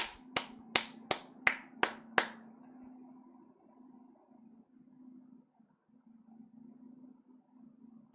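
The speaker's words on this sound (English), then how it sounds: "You can definitely hear the clapping" Six sharp hand claps ring out in an even, quick rhythm close to a microphone, then stop, leaving only a faint low hum and room noise.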